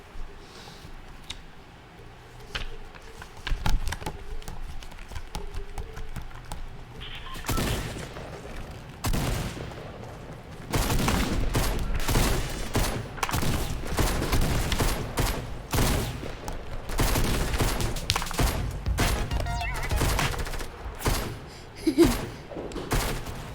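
Gunfire in a video game, starting with scattered shots and building into dense, continuous bursts of rapid shooting that fill the second half, loud and close.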